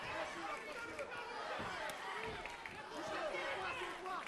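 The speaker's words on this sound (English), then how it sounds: "You hear the chants, Doychev, the Bulgarian crowd loving him." A Bulgarian crowd at a kickboxing final chants a fighter's name, Doychev, its voices merging into a steady, dense roar of rhythmic shouting that fills the hall with no single voice standing out.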